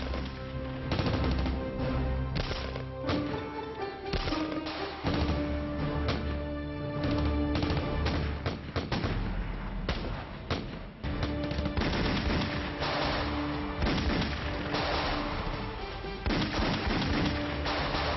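Heavy, sustained gunfire and booming artillery-like blasts fill a battle scene, dense and continuous throughout, loud and unbroken.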